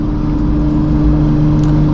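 A 1995 Mercedes E300 with a tuned turbo diesel, uprated injection pump and Borg Warner turbo pulls hard under acceleration, a loud, steady engine drone heard from inside the car.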